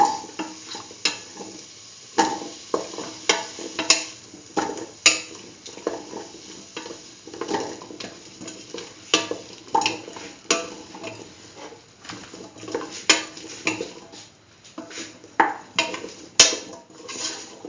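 Potato pieces dropped into a stew pot with chayote and stirred, repeated scraping and clattering strokes of a utensil against the pot over a soft sizzle, steady rhythm and close.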